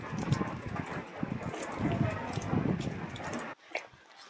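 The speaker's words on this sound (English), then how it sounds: "It's quite windy, as you can hear with all the rattling going on around me." Strong wind gusts buffet the microphone on an exposed Scottish hillside, with irregular rattling and flapping close by, dropping away abruptly near the end.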